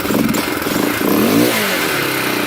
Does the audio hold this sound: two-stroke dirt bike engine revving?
yes